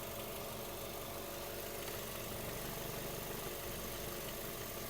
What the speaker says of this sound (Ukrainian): Мотор сухенький, чистенький, працює тихо, рівно, без зауважень.